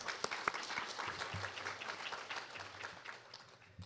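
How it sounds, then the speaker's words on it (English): Audience applauding in a room at a summer research academy opening event, steady clapping through the whole stretch with a faint low hum beneath. "Round of applause for all of you"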